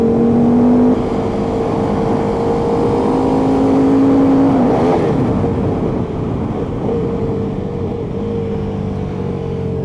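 A KTM RC8 motorcycle fitted with a 1290 engine accelerates, its loud, close engine note climbing in pitch, dropping sharply at a gear change, then pulling steadily again.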